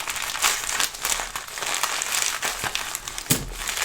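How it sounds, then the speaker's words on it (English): Scissors cut across crinkly plastic packaging holding 2021 Britannia one-ounce silver coins, giving close, loud crackling and crumpling in irregular bursts with a few sharper snips. "let's just cut across it with some scissors"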